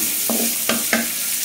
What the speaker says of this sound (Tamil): ஆனியன் நல்லா பச்சை ஸ்மெல் போகிற வரைக்கும் நல்லா சாஃப்டே பண்ணுங்க